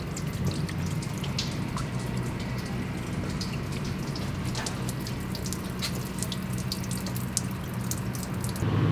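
Coolant draining from a vehicle during an EFI conversion and temperature sensor job, a steady trickling, dripping flow of liquid running continuously at close range with no talk.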